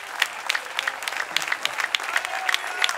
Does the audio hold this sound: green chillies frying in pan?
no